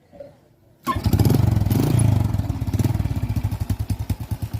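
A Honda XRM 125 motorcycle engine fires up after a faint clatter and settles into a loud, steady putter, its exhaust leak giving a sharp, even pulsing chug that grows more distinct as it idles close by.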